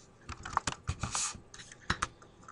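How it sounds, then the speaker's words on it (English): Typing code on a computer keyboard, a close, brisk burst of uneven key clicks with short pauses and one longer held press in the middle. "And now we need to type in super."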